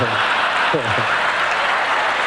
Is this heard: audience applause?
yes